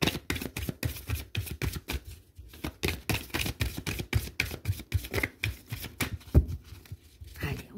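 Tarot cards being shuffled by hand in quick, repeated riffling bursts of papery slaps and flutters, close and fairly steady with brief pauses between runs.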